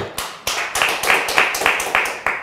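A studio audience on a Turkish TV word quiz show claps in a steady burst of applause, with repeated hand claps that continue throughout.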